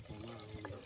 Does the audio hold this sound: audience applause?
no